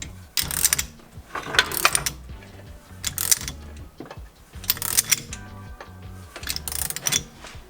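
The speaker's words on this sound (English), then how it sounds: "crank on that ratchet at the same time" A ratchet cranks the bolt of a harmonic balancer puller on a 1500 hp drag car engine, giving repeated bursts of loud, close ratcheting clicks in a steady rhythm, with no speech.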